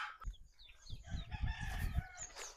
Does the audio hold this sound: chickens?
yes